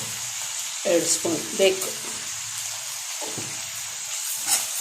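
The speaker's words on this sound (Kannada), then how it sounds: "ಈ ರೀತಿ ಫ್ರೈ ಮಾಡ್ಕೊತೀವಿ" Ingredients for chitranna, a lemon rice dish, frying in a pan, giving a soft, continuous sizzle with occasional stirring, while a person speaks briefly over it.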